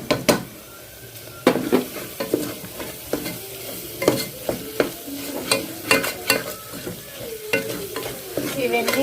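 Masala curry sizzling in oil while a spoon stirs it, with a steady frying hiss under repeated sharp scrapes and clinks of the utensil against the pan at an uneven rhythm, close and clear.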